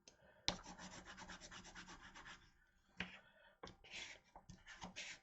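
A bone folder is rubbed firmly across a foil-sided paper greeting card to smooth it flat, giving close, dry scraping strokes in bursts, each starting with a sharp contact and broken by brief pauses.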